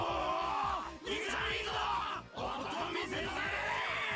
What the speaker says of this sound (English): The crowd went wild when they saw our conversation.